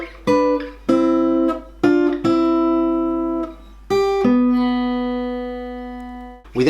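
Guitar plays the intro melody of a song, a handful of clean plucked notes and double-stops that ring out and decay, spaced unevenly, close and alone with a low hum underneath.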